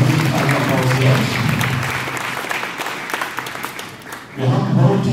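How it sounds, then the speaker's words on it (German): Dense, steady crowd applause in a hall at a 2015 business project fair in Erkrath, gradually thinning before a speaking voice comes in near the end. "Ja, ich denke, das ist ein Applaus jetzt."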